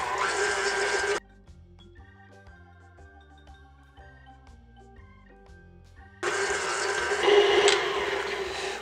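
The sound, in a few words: electric mixer creaming cookie dough with paddle attachment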